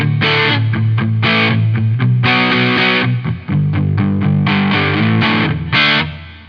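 Crunchy, mildly overdriven electric guitar runs through a pedal board in a loud, close classic-rock chord pattern. Choppy stabs alternate with longer ringing strums, and the last chord fades out.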